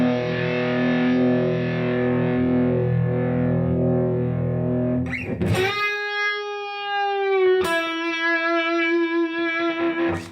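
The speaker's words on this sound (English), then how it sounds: "Now here's what it sounds like with the fuzz." Electric guitar played through UniVibe and fuzz effects: a warm wavering chord fades out, then two sharp attacks ring out as thick, sustained fuzzy notes with a slowly throbbing, swirling tone.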